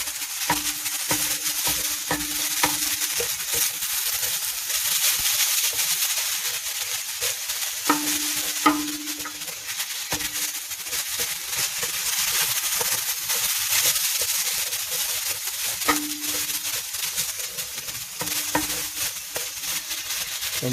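A spinach mixture for Greek spanakopita fries in a hot pan, a steady close hiss and sizzle broken by periodic scraping stirs, running alone without talk.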